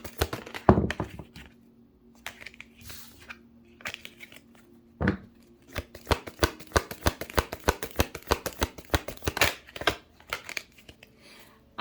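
Tarot cards are shuffled and drawn, with a rapid run of crisp card riffles and slaps near and loud, broken by brief pauses and a few thumps, with no talking.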